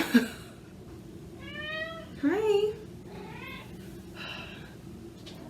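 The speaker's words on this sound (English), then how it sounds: "I don't want to hear anybody complain about vocal cats ever again" A vocal cat meows several times at close range, a run of drawn-out, rising and falling calls indoors, with a brief spoken greeting at the start.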